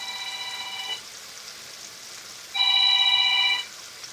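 A telephone ringing in a home kitchen, two electronic trilling rings separated by a pause of quiet, moderately loud and close, with no talking.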